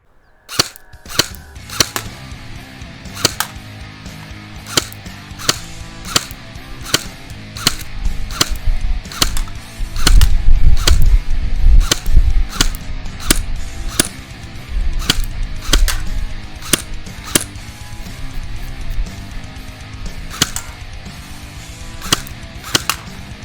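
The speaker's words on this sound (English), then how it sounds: "Now let's go out and test shoot it. Let's shoot it in semi." A CM.619 airsoft gun fired in semi-automatic mode outdoors, sharp single snapping shots in a fairly even series of around two dozen, loud and close, with a brief rumble of background noise midway.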